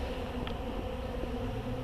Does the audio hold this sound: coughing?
no